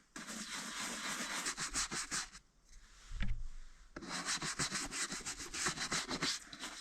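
A brush works polish into leather walking boots with brisk, repeated rubbing strokes up close, broken by a short pause and a soft knock before the scrubbing resumes.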